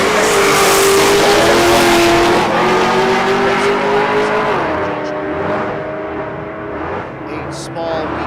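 A 2009 Pontiac G8 launching at a dragstrip, a loud, close engine roar with a rising then shifting pitch and tire noise, a commentator talking over it throughout.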